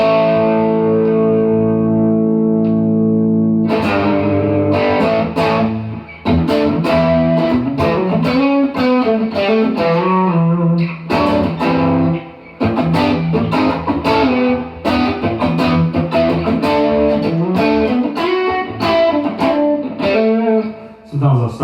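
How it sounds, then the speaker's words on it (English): High-gain distorted electric guitar played through a Boss GT-1 effects processor, loud and continuous, with sustained chords opening into quick melodic licks and runs, alone with no talk. "That's a little bit more, high gain setup, but it sounds good."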